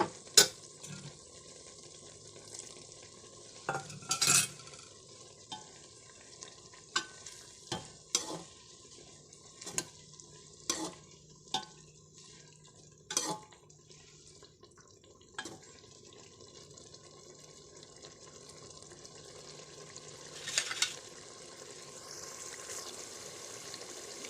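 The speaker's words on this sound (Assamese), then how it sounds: "এতিয়া পানীত তিয়াই থোৱা মছলাখিনি দি দিছোঁ অকণমান পানী মিলাই দিওঁ" Soaked spice paste goes into a pan for Assamese chicken curry, and a soft sizzle runs throughout with repeated stirring clacks and scrapes at irregular intervals, faint and close.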